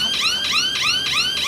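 A GSM smart alarm system siren wails loudly in rapid repeating upward-sweeping tones, several cycles in quick succession, close and alone.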